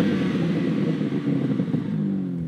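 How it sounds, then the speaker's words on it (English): A 2021 BMW M3 G80 with its S58 engine and standard sports exhaust gives a steady, throaty drone that swells slightly, close and loud for a couple of seconds. "these sports exhausts are standard, and they sound fantastic."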